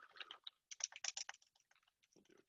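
Quick, crisp keystrokes on a computer keyboard come in close bursts with short pauses between them, with no talking.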